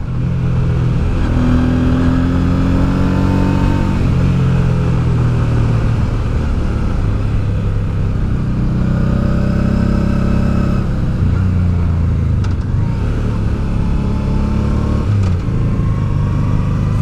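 A motorcycle engine, just kickstarted on the Col de la Bonette climb, runs loud and close with a steady low rumble and a few small rises in revs, no talk over it.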